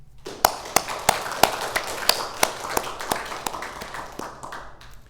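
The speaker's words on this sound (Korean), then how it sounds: "우리 감사의 마음으로 마음을 다해서 큰 박수 한번 드릴까요?" A small church congregation claps for mothers at a Mother's Day service, sparse and uneven hand claps sounding one by one at a steady pace before thinning out, fairly close in a quiet room.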